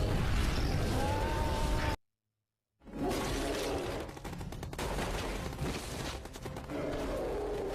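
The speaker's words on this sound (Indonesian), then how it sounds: "Kapten Jones yang melihat langsung melemparkan granat dan juga meminta anggotanya menyerang Abraham" Film gunfire as soldiers attack after a grenade throw: loud, dense bursts of automatic fire and impacts, broken by a short silent gap, then the firing returns and keeps going in heavy volleys.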